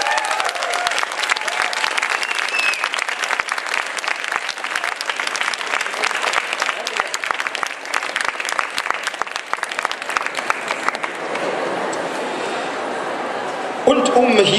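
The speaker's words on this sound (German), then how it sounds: "Wir begrüßen mit einem unglaublich donnernden, tosenden, welterschütternden Applaus Phil" Thunderous applause from a comic festival crowd welcoming Phil Ortiz, a dense sustained roar of clapping that holds steady for over ten seconds before thinning out, with a sharp knock near the end.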